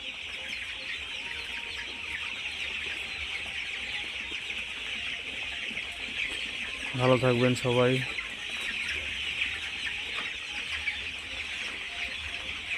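Chickens cluck in a warm poultry shed over a constant background hum, with a short spoken phrase breaking in partway through.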